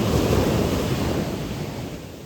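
Sea waves wash onto a beach during a turtle hatchling release, a broad close surf rush that slowly fades as the wave recedes, with wind buffeting the microphone and no voices.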